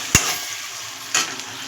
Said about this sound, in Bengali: তেল গরম হয়ে গেছে, এবার আমি এটা মাংসটার মধ্যে ছেড়ে দেবো